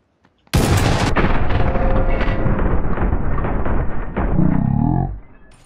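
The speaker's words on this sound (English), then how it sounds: "He has a nade, that's it's a flash." A flashbang grenade goes off in PUBG with a sudden loud blast that rumbles and rings on for several seconds before cutting off, close and overwhelming.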